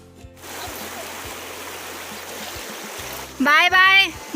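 River water rushes steadily and close by during a river crossing, a continuous broadband flow with a few low bumps, broken near the end by a short burst of voices.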